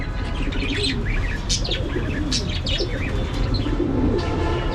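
Giribaz pigeons in a loft, cooing and chirping among a crowd of other birds over a steady low rumble, with a few wing flutters, busy and close.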